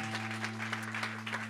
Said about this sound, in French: Je vous demande d'applaudir Clotilde dans le rôle de Marthe de Pétancourt